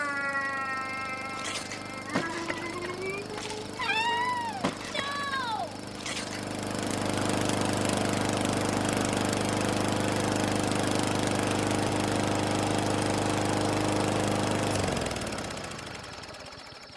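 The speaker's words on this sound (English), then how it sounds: "that lawnmower's coming straight at us." A lawn mower engine chugs steadily, growing louder into a sustained close roar before cutting off, with shouting voices over it early on.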